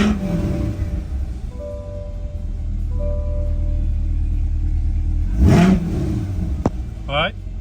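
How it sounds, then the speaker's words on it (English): A C8 Corvette engine cranks and fires up late in the clip with a brief rising roar, then a quick electronic chirp, after a person speaks over a quiet idle-free background. "now the car will start."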